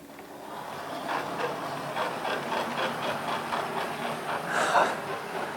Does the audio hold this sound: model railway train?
yes